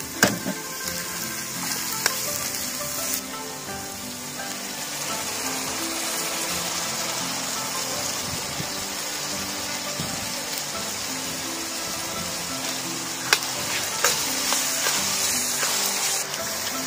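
Diced meat stir-fried in a wok with scallion, ginger, garlic and dried chili, a continuous dense sizzle with occasional sharp clicks of a utensil against the pan, close and steady, with no talking.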